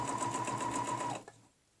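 Sewing machine running fast and close, stitching a loop pattern on fabric guided by a ruler, with a steady whirring hum and rapid needle beats for about a second before stopping abruptly.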